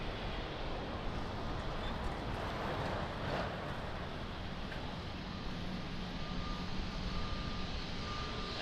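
An airplane landing at Lisbon Airport gives a steady, broad roaring rumble of engines and rushing air that holds evenly throughout, distant and fairly faint, with no talk.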